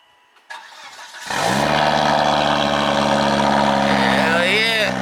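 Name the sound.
cold start of a Volvo 2.5 turbo engine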